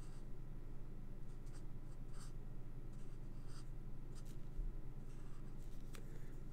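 A pen nib colours on a paper card, giving soft, steady scratchy strokes close up, with brief louder scrapes at irregular moments over a faint constant hum.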